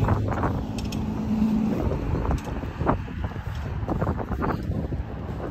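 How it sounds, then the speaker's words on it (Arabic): Steady cold outdoor wind on a snowy day buffeting a microphone, a low rumbling roar with gusty bursts throughout, no voices. "بصح كاين الريح، الريحة مبرد الحالة"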